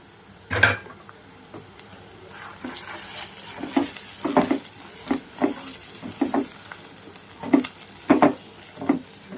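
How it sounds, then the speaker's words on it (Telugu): Ginger garlic paste fries in a pan, with a soft constant sizzle. A spoon knocks and scrapes against the pan in irregular, fairly close clatters throughout, and nobody speaks. "మంచిగా పచ్చివాసన పోయేంత వరకు మనం వేపుదాం ఇట్లాగా అల్లం వెల్లుల్లిపాయ పేస్ట్ని."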